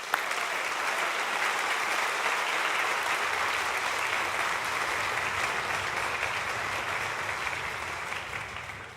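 A crowd of listeners at a junior high summer music camp concert claps in a sustained, even round of applause that fills the room and tapers slightly toward the end.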